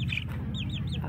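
Dominant CZ auto-sexable parent-stock chickens on a poultry genetics farm, with several short clucking calls rising over a steady low rumble of farm noise.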